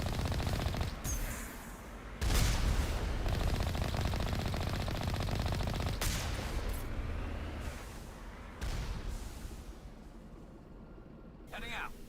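Automatic turret gunfire in the game Mass Effect Legendary Edition, loud sustained bursts with sharp blasts near 2 and 6 seconds, continuing under a dense mix of game sound.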